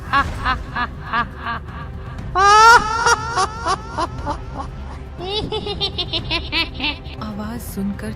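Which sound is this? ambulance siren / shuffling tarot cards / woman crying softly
woman crying softly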